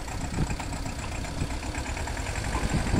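Engine of a tempo (small goods carrier) idling and turning before driving off on a farm road where groundnut seed sacks are being loaded, a steady close rumble that rises slightly toward the end.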